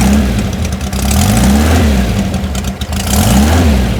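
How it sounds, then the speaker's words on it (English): A cold Porsche 356 Speedster engine with twin carburetors revs cleanly, rising and falling in smooth repeated swells close by, with no talking. "Even though it's still cold, there's no lumpiness as the engine picks up."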